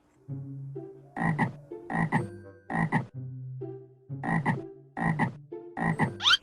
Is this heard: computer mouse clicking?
no